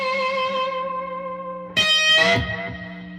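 A distorted electric guitar through an amp sustains a chord, then a harsher, brighter strummed burst cuts in and rings out, loud and close with no talking.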